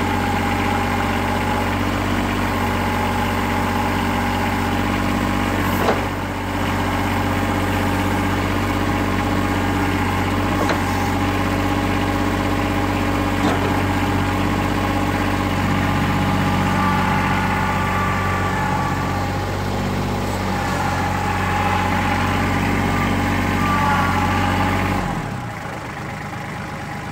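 A Kubota L3700SU compact tractor engine runs steadily at about 2,000 RPM, a loud, constant mid-pitched drone with vibration that holds for roughly 25 seconds and then drops off abruptly near the end.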